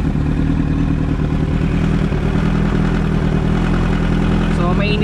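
A motorcycle engine, hot after a carburetor cleaning and tune-up, idles steadily at about 1,000 to 1,100 rpm with a constant low rumble running throughout, close and fairly loud.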